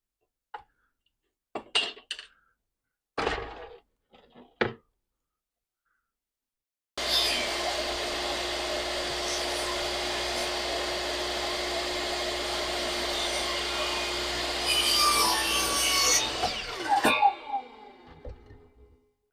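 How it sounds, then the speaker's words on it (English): A miter saw cutting wood, with a few sharp clicks and knocks first, then a loud steady motor whine for about ten seconds that rises as the blade bites and spins down at the end. "I've flipped this over so that I don't have to move my miter saw. So I'll flip it up this way and cut it."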